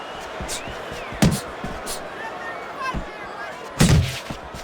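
Punches thud home in a Fight Night Champion boxing match between Mike Tyson and Isaac Frost, two heavy blows spaced a couple of seconds apart with lighter impacts between, under a commentator's voice.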